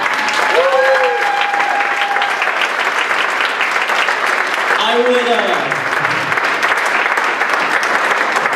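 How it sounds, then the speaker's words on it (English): Loud, continuous applause from a cabaret show audience fills the room, with voices and cheers rising over the clapping. "I want you to accept all of this wonderful applause from the audience."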